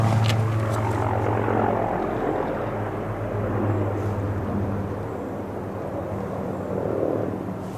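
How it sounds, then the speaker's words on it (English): A helicopter flying low overhead near a tidal shoreline campsite, a loud, steady rotor and engine drone that stays close throughout and slowly fades a little, with no talk over it. "Is that a helicopter behind me?"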